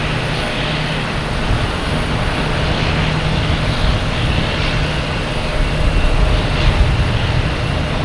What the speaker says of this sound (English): Now we got PAL Airlines passing in review in front of us